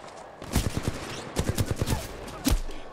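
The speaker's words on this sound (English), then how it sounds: "Alright, I hear gunshots way over there." Video game gunfire in Titanfall 2, heard as several bursts of rapid shots in clusters with brief gaps between them and a final louder report near the end, at moderate distance.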